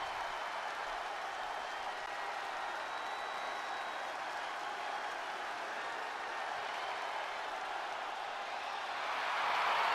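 A hyped arena crowd in the wrestling game WWE 2K23 cheers Cody Rhodes' entrance in a steady, moderately distant roar of cheers and applause that builds louder in the final second.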